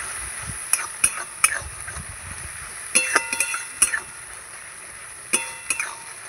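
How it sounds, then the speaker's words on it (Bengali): Bhola fish being stirred with salt and turmeric in a pan for a spicy curry, with a utensil scraping and clinking against the metal in scattered bursts and a faint sizzle underneath, close by, no talk. "এই যে লবণ, হলুদ, দিয়ে ভালো করে নাড়াচাড়া করে নেব।"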